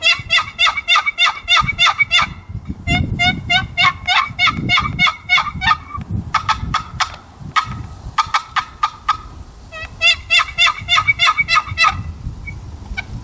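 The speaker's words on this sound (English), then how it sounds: "It's a nice raspy sounding call." Turkey box call with a yellow juniper lid and red cedar sides, played in quick raspy yelping bursts of clucks and yelps, loud and close, in repeated runs separated by short pauses.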